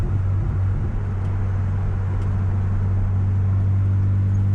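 A Chevy car being driven, heard from inside as a steady low engine hum and road rumble that stays constant and fairly loud from start to finish, with no one talking.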